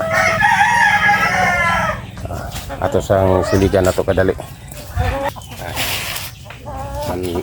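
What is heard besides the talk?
chickens clucking and crowing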